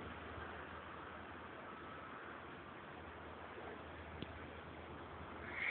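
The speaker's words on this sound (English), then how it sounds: "Wind is whipping. Snows are blowing." Blizzard wind whips past the mic outdoors on a city block in Maspeth, Queens, New York. It makes a constant faint rushing roar with no pauses or voices, and swells slightly at the end.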